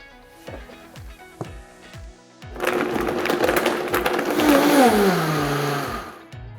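A blender on its smoothie setting blends berry smoothie ingredients: a few loud knocks come first, then a steady, close motor roar whose pitch sinks toward the end.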